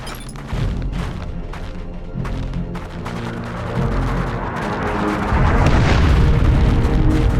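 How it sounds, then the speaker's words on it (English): Artillery barrage in Dawn of War 2 Chaos Rising, a rapid series of heavy booming explosions that grow denser and louder into a sustained rumbling roar toward the end. "Launch barrage! Artillery, clear the area!"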